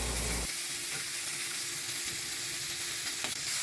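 Butter sizzling in a pan while shrimp scampi cooks, a steady close frying hiss after a brief louder start, with a faint stir or clink near the end.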